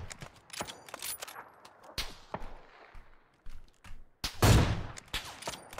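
Bursts of video game gunfire crack out sharply and irregularly, near and loud, with a heavier volley toward the end and quiet gaps between shots.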